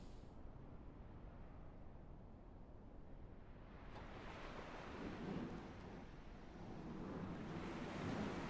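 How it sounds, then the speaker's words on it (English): A plane crashing into water in Microsoft Flight Sim 2024, a steady rushing roar of surf and spray that swells and grows louder toward the end, with no talk over it. "If you want to see the crash physics into the water, we're doing it right now"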